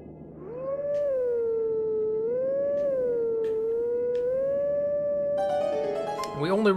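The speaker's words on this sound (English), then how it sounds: "I know it's supposed to be a wolf howl, but sometimes it sounds more like a theremin" Wolf howl from Zelda: Twilight Princess, a long, smooth, sustained wavering tone with a theremin-like quality, rising and gently bending in pitch for several seconds before a brighter musical chime at the end.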